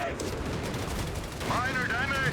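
Zeroing artillery barrage in Company of Heroes 3 during a 1v1 match, a dense rumble of overlapping explosions and gunfire that swells louder in the second half, with a wavering whistle riding over it.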